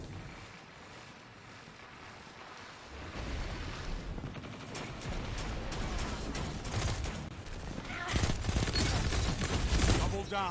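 Gunfire in a naval shooting video game, a rising clatter of rapid shots and explosive bursts that grows louder toward the end, heard alone without talk.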